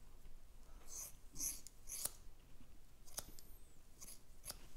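Scissors snipping hair during a barber's practical precut, several quiet, crisp snips in irregular bursts, close and faint, with soft breathing between cuts.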